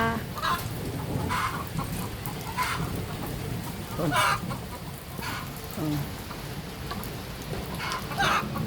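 Heavy rain pours down in a steady broadband hiss, with chickens clucking and crowing over it at intervals.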